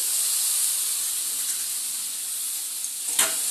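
Boiled taro flower hits a hot pan with prawn and spices, sending up a steady loud sizzle and hiss that runs throughout, with a brief sharp crackle near the end.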